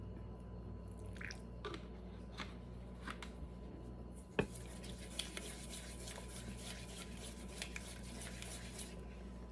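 Sugar and vanilla extract are stirred together in a bowl, making faint wet squishing and light utensil scrapes against the bowl, soft and irregular, with one sharper knock partway through.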